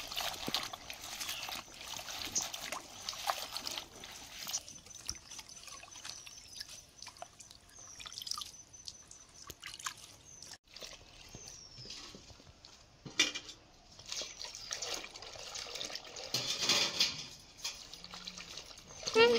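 Fresh spinach (palak) greens being rinsed in water at home, with soft drips, trickles and faint clinks of a pot or utensil, quiet and close, with a few louder splashes toward the end.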